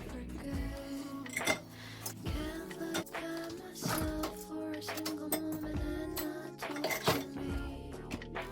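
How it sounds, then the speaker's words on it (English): Dishes and cutlery clinking and clattering as they are rinsed and loaded into a dishwasher at home in the evening, with repeated sharp knocks and rattles over running water. "I start loading them into the dishwasher again"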